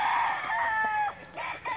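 A gamefowl stag crows once nearby, a loud drawn-out call, followed by a few short clucks.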